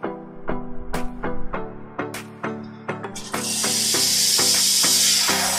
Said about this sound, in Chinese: 它可以一边冲咖啡一边打奶泡，蒸汽很强，现在开给大家看看